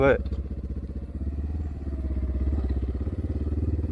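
A Kovi Max 300 enduro motorcycle engine runs steadily and loud throughout while riding toward a field, its low rumble rising slightly in pitch partway through, with no voices over it.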